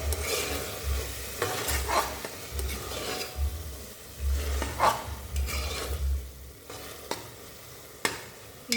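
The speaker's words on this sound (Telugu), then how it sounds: "ఒకసారి అయితే కలుపుకుందాం." Tomato rice is stirred in a pan with turmeric and salt, producing rhythmic, close scraping and stirring strokes over a low sizzle, with heavier knocks of the spoon against the pan at irregular intervals.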